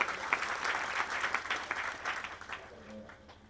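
Audience applause at a devotional bhajan gathering: a dense, fairly distant patter of many hands that fades toward the end as a low voice begins beneath it.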